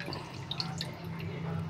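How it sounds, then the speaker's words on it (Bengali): Leafy greens for making greens fritters being washed in water, with close, steady splashing and dripping water throughout the short stretch and no talking. "শাকটার মধ্যে আমি একটু বেশি করে জল দিয়ে ধুয়ে নিয়েছি।"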